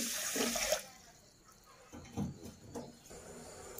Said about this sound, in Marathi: आता बघा, ह्या गिलासाने मी पाणी टाकते ह्याच्यामध्ये